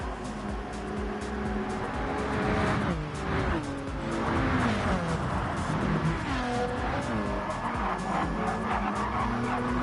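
Touring race cars, including a four-wheel-drive Subaru, battling wheel to wheel on a circuit, with engines revving up and down through gears, tire squeal and skidding, loud and continuous over the whole stretch.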